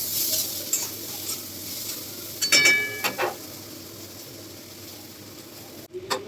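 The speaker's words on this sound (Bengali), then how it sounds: "তাহলে আলুর সাথে সাথে আমাদের কাঁচা লঙ্কাটাও ভাজা হয়ে যাবে" Potatoes and green chillies fry in a pan with a soft, steady sizzle, broken by a few loud scraping stirs of a utensil against the metal, close and with no talking.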